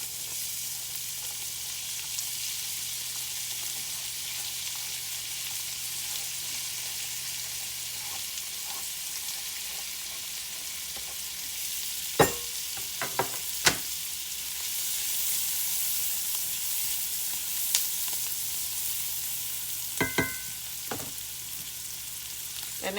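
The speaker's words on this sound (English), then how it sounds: "now I'm going to go ahead and I'm going to add my onions in" Onions sizzle and fry steadily in a hot pan already seasoned with onion powder, with a continuous crackling hiss and a few sharp clicks and clatters of utensils against the pan partway through.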